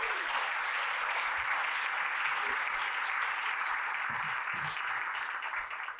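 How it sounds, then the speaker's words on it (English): An audience at a general membership meeting applauds its panelists, producing a full, even roar of clapping from a sizable room that holds steady and then starts to taper off near the end. "can we give our panelists a big round of applause"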